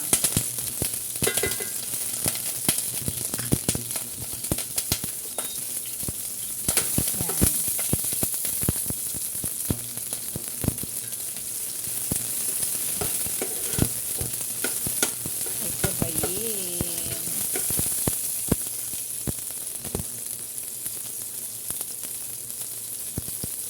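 Chopped onion and garlic sizzle in a hot frying pan, a constant frying hiss broken by repeated clacks and scrapes of a utensil stirring the pan.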